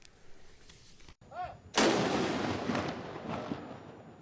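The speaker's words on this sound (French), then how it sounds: "Chaque coup de canon résonnait comme un écho solennel dans l'histoire de nos républiques" A ceremonial cannon salute fired by the Special Mobile Force at a national ceremony: one loud, booming shot that rings out and rolls away in a long echoing tail, with a faint tone before it.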